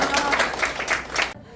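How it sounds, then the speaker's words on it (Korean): Brief burst of applause and clapping from a crowd closing a civic group's press conference in Gwangju, dense and close, cutting off abruptly near the end. "박수로 기자회견 마치도록 하겠습니다"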